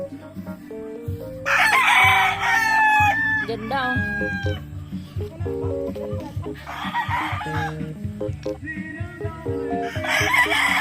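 Roosters at a chicken farm in Pangasinan crow in several long, bright calls, with clucking between them, loud and close, while someone talks briefly over the birds.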